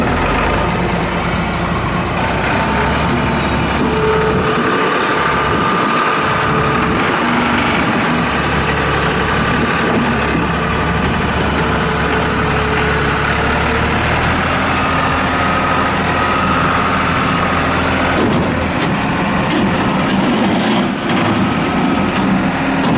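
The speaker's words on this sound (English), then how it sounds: "this machine is being started cold. We're going to run it." A 2001 New Holland LS180 rubber-tire skid steer loader runs steadily after a cold start with no pre-warming, its diesel engine idling with a continuous low rumble and vibration close by, no talk over it.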